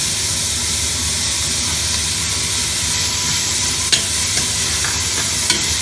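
Onions and curry leaves sizzle steadily in a hot pan, a dense continuous frying hiss with a couple of faint clinks of a spoon stirring.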